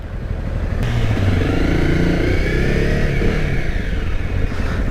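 Honda CRF 250 Rally motorcycle engine running steadily through a test ride, a loud continuous drone with wind rush and slight rises in pitch as the throttle varies.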